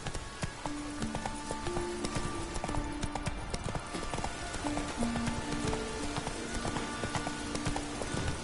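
Roach, a horse in a PS4 video game, gallops with a steady, fast clip-clop of hooves, close and continuous, over a patter of rain and scattered in-game tones.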